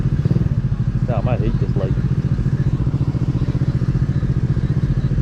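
Honda Dio Z4 scooter fitted with a swapped GY6 155cc Taida engine, riding with a loud, close, steady pulsing drone and rattly clatter, a rider speaking briefly over it.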